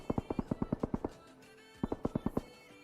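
Rapid bursts of gunfire in the mobile game PUBG Mobile, two quick strings of about ten sharp evenly spaced shots separated by a short pause, fairly faint.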